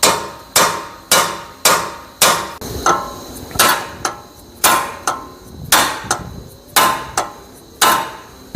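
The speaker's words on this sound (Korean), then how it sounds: "부득이하게 이제 망치질을 하는 거예요" A urethane dead-blow hammer strikes an aluminum knuckle in a steady series of about fourteen loud, close, sharp blows at a regular pace, with no voices.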